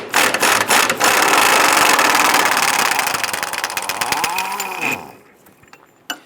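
A power tool loosens a control arm bolt on the rear suspension of a 2005-2010 Chrysler 300, running in a loud, steady buzzing burst for about five seconds before winding down and stopping, followed by a brief clunk.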